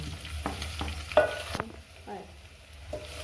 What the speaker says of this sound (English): We're going to add in our onions and let the onions cook until they are also golden brown.